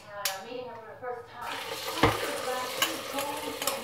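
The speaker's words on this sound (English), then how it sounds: "Hear that sizzle?" Omelette mixture with sausage and vegetables sizzles and crackles on a hot waffle maker, close up, with light scraping and clinking over the frying hiss.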